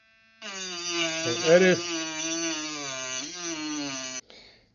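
A HARDELL cordless rotary tool spins up with a steady, loud high-pitched motor whine, its pitch dipping briefly as the tiny blade bites into a piece of wood, then stops abruptly; a voice speaks briefly.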